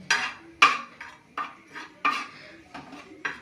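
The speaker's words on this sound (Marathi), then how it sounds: "तर पीठ पण भाजायला घेतलेलं आहे आपण" Bajra flour dry-roasting on a tawa is stirred with a metal spatula, giving about seven sharp, close metallic scrapes and clinks roughly every half second, with no talking.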